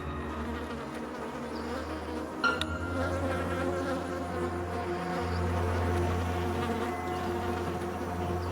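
Flies buzz around a feast in the African wild, a steady close drone with faint insect whine layered over a low hum and one brief tap partway through.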